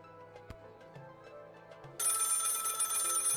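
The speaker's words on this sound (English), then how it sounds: "Of course the phone's ringing." A telephone in the video game Lil' Guardsman starts ringing with a bright, sustained electronic ring that cuts in abruptly after a quiet stretch of soft background tones.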